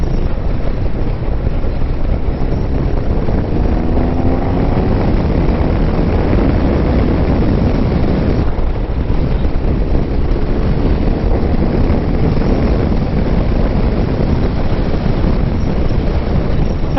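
A 2016 BMW R1200RS motorcycle on a slow test ride, heavy steady wind rush over a low engine drone running continuously without any speech.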